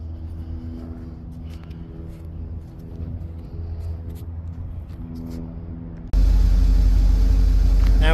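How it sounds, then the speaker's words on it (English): A 1975 Chevrolet Corvette engine idles with a steady, even low hum, running smoothly, and turns noticeably louder and fuller partway through. "Listen to the motor. It runs smooth. It's quiet."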